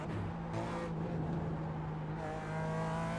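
A BMW GT4 race car in the iRacing sim on the Nordschleife holds a steady, fairly quiet engine drone at high revs, with small pitch dips as the throttle eases and returns.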